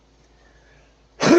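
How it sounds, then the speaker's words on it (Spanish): A single sharp, loud cough bursts out close by right at the end, after a near-silent pause. "Otra vez las toses"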